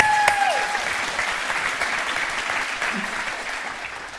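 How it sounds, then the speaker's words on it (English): Applause from a church audience, a dense, sustained sheet of clapping from many people that carries on for several seconds at an even level, with no voices standing out. "Let's give her a round of applause."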